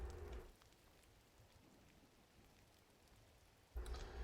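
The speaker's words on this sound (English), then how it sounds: "It's raining." Steady, fairly quiet rainfall in the video game Gris hisses evenly for a few seconds, bracketed by brief louder bursts of other sound at the start and end.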